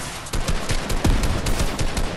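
Rapid bursts of video game gunfire, loud and close, fired at an opponent's freshly built structure in an arena duos battle royale match, with repeated sharp shots spread across the whole stretch.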